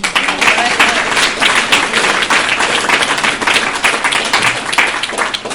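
An audience at a recovery meeting claps together in a dense, steady round of applause that stays loud throughout and tapers slightly at the end.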